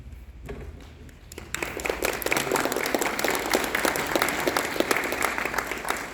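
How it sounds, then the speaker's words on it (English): Applause at a candidate forum for State Representative District 10 breaks out after a quiet moment, then a full room claps densely and steadily to the end. "Thank you for your kind and gracious applause"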